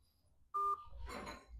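A single short phone keypad tone beeps clearly while a call is being dialed, followed by soft rustling and handling noise.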